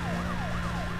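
Police car siren from the Need for Speed Most Wanted racing game wails in a steady up-and-down sweep, moderately loud over engine rumble, with no talking.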